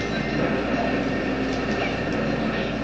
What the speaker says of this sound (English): You don't want to run into the train that's going around in this area right here.